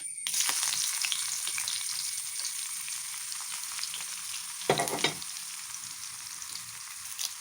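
Onions and a dried red chilli frying in a pan for an Onam sadhya paruppu curry, a steady close sizzle that flares briefly louder midway, with no talking.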